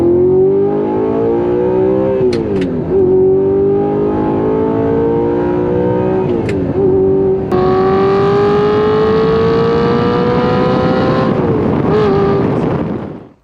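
Gen 1 Audi R8 V10 fitted with an aftermarket exhaust, revving loudly and continuously near the microphone, with the pitch climbing and dipping through several blips and a brief burst of higher-pitched rasp partway through.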